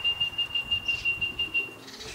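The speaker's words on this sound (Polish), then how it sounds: "jest następny gołąb" Racing pigeons return to the loft during a competition flight, with quick rhythmic wing flaps pulsing about six times a second, close and faint, over a steady high whistling tone.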